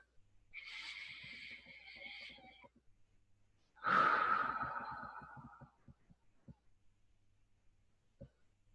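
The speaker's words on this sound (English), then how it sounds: "I like to start with a nice, deep, comfortable breath." A slow, deep breath drawn in and released during a guided meditation, heard close and soft as two long airy swells with faint throat noises and quiet clicks between.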